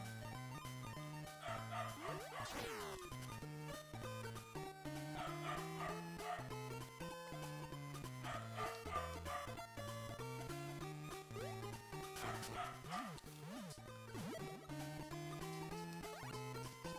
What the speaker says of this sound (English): Dog's really not happy with something.